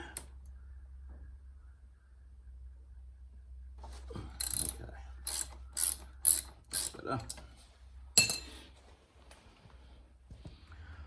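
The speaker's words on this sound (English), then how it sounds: "Let's try a small hex socket instead." A ratchet with a small hex socket works on a Honda CB500X motorcycle's brake, producing bursts of sharp, quick clicking after a quiet start, up close with a low background hum and no speech.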